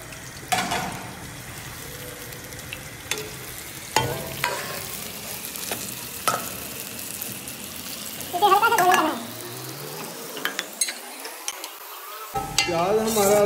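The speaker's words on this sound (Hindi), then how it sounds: "अब इसमें डाल देते हैं प्याज।" Onions, about six, frying in hot oil in a large pot, a continuous close sizzle with scraping and stirring clatters, a bubbling burst midway, and voices talking over it.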